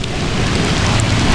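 A waterfall in Kourtaliotiko Gorge pours close by as a loud, dense, unbroken roar of rushing water, brief and steady with no voices.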